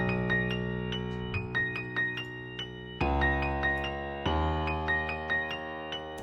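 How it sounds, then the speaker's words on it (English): A piano melody raised up an octave within a hip-hop beat production, bright repeated notes ringing over sustained low chords and bass, with the harmony shifting twice, all instrumental. "We could simply bring our whole piano up an octave and we get something that sounds like this."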